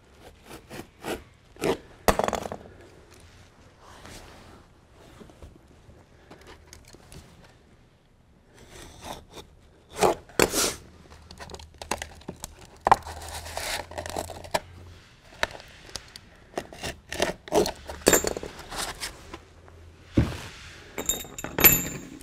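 Sandpaper for a Galaxy Super 2000 floor sander is cut to angle, heard as a series of sharp close snips, tears and crinkles in irregular bursts separated by quiet gaps, with no speech.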